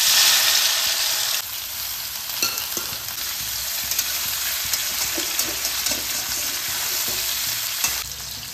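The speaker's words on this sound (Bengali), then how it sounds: "তেল গরম হয়ে গেছে, সিদ্ধ করা এঁচোড় আর আলুটাকে একটু ভেজে নেব" Boiled jackfruit and potatoes fry in hot oil in a pan, a loud steady sizzle with occasional stirring clatter and scraping throughout, no voices.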